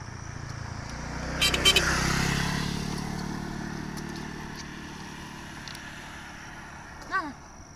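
A motorcycle on a roadside passes close by, its engine swelling loudly and then fading away, with a brief clatter partway through.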